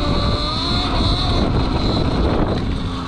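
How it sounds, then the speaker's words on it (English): Steady, loud rushing drone while riding a Bombmoto B1V1 electric motorbike outdoors in Colorado, with heavy wind buffeting over a faint motor whine that holds throughout. "riding my bike, the Bombmoto B1V1"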